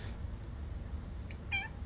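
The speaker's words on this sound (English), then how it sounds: "I heard kitty meow." A cat gives a short meow near the end, faint and somewhat distant, preceded by a soft squeak. A low, steady rumble of background noise runs beneath it throughout.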